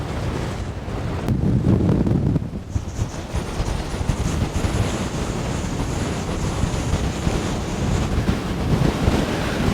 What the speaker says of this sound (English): Wow, this wind is crazy.